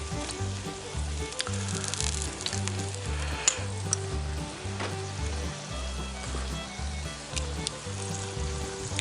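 Onions and seasoned corned beef, flavored with mustard and coriander, sizzle and fry steadily in a cast iron pan, a dense, continuous crackle with low bubbling pulses, close and alone without talk.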